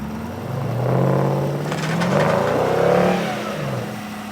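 A car engine strains and revs in mud and snow, rising and falling over a few seconds as the wheels spin, fairly close with no talk.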